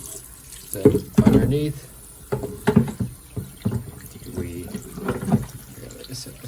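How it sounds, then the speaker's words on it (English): Water running from a faucet to rinse out the dirty water tank of a Bissell TurboClean PowerBrush Pet carpet cleaner, splashing unevenly in bursts inside the plastic tank, with a person speaking briefly over it. "dump out the dirty water, and then rinse it out a little bit here."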